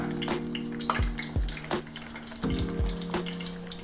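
Sheepshead fish frying in hot oil in a pan, a steady crackling sizzle with several sharp knocks and clatters of the pan and utensils scattered throughout, close and fairly loud, with no talking.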